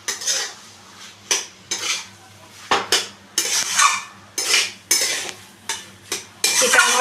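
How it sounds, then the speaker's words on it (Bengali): A utensil stirs banana flower curry with ghee and garam masala in a pan, scraping and clinking against the metal in repeated bursts, close and fairly loud, with a faint sizzle underneath and no talking. "এবার এটাকে আমি ভালো করে মিশিয়ে নিচ্ছি।"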